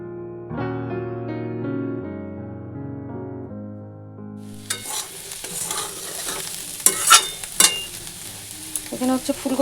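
Cauliflower and potato pieces fry in a pan. A loud, crackling sizzle starts about halfway through and continues with rattling stirring scrapes. Clear tonal sounds play before the frying begins.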